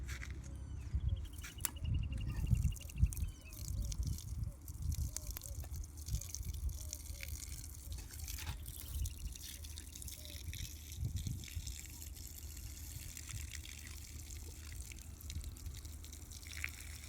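Water pours from a container onto a tree outdoors, giving a soft, steady trickle and splash with light dripping throughout and faint background sounds.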